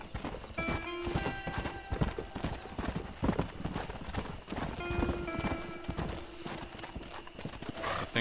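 Horse hooves clip-clop in a steady walking rhythm in the video game Red Dead Redemption, with a whinny and faint game sounds around them, fairly quiet throughout.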